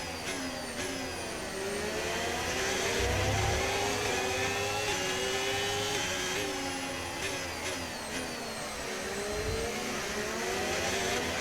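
F1 2025 race cars in Azerbaijan Grand Prix gameplay, high-pitched engines sweeping up and down as cars pass and overtake, several whining passes layered close and loud, no talk.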